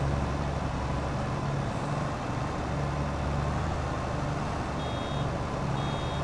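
A baler's fill warning in Farming Simulator 22 beeps in short repeated pulses as the bale chamber nears full, sounding over a loud, steady tractor engine drone while silage grass is collected.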